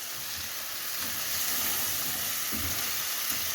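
Guinness poured into a hot pan sizzles and hisses steadily as it deglazes, with brief surges of bubbling and spoon scraping against the pan bottom, close and fairly loud with no talking.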